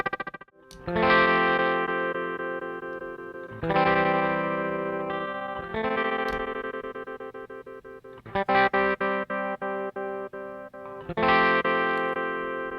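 Distorted guitar chords through a ZVEX Sonar tremolo pedal ring out in separate strums, each pulsing with a choppy tremolo whose duty cycle and speed shift together, one section stuttering rapidly before fading.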